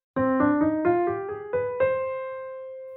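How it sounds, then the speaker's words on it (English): A C harmonic minor scale rises one note at a time on a synth in Ableton Live, eight clean tones with the top note left ringing and fading, alone. "well, C harmonic minor scale will sound like this."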